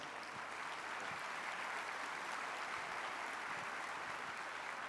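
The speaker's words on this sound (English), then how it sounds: "So please give her a warm round of applause." Steady, continuous applause from a conference audience welcoming a princess onstage at the World Congress of Families 2022, fairly faint and even throughout with no voices standing out.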